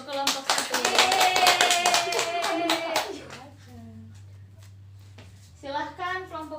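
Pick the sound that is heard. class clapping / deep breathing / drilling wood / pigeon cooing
class clapping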